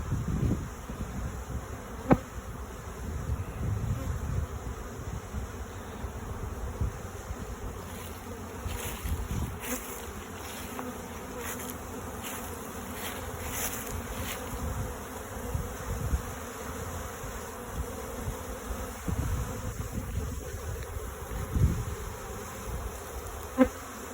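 A honeybee swarm pours out of a hive during an inspection outdoors near a cedar tree: a dense, continuous buzzing drone of many bees, steady and close throughout, with no voices.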